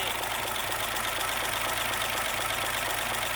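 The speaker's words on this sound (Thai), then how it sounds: "เดี๋ยวมาสตาร์ทให้ชมกันครับ นี่ครับ K13C ทำสายนะครับตัวนี้" A Hino K13C diesel truck engine with an in-line pump, rated at 380 horsepower, idles steadily. Its even, close rumble runs unbroken throughout, with no voices over it.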